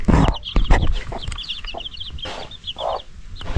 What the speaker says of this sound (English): Mother chicken.